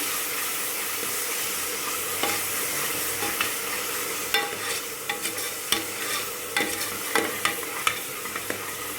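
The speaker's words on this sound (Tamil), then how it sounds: "இப்போ சாப் பண்ணி வச்சுருக்கிற டொமேட்டோ தக்காளி சேர்த்துக்கிறேன் நல்லா வதங்கட்டும்" Chopped tomatoes sauté with onions in a pan for a Thoothukudi-style goat lung gravy, a steady sizzle and hiss broken by sharp clicks and scrapes of stirring that grow more frequent toward the end.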